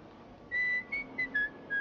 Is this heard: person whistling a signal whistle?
yes